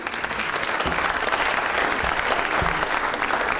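An audience at a school district's student awards ceremony gives a loud, sustained round of applause, with crisp nearby claps layered over the dense clapping of the wider room.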